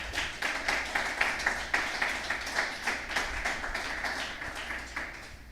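Applause from a church congregation during a service, a steady dense patter of many hands clapping at moderate distance, sustained throughout with no talk over it.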